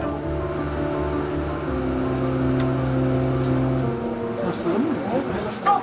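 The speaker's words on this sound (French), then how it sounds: "Oh, le freinage un peu violent." Automatic driverless bus braking hard: a steady tonal motor whine holds, then drops away abruptly, followed by brief warbling tones and rattles as the vehicle slows.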